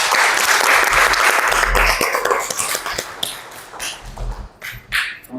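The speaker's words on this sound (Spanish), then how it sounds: "a quien pido un fuerte aplauso." A book-launch audience gives the author a strong round of applause, loud dense clapping that swells at first, then thins into scattered individual claps fading toward the end.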